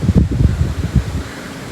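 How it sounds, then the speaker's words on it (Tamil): Strong wind blows at night with no rain, a gusty low rumble buffeting the microphone close up. "செம்ம காற்று, வெளியில் மழைலாம் பெய்யல, பட் காற்று மட்டும் ஹெவியாக வீசிட்டே இருந்தது."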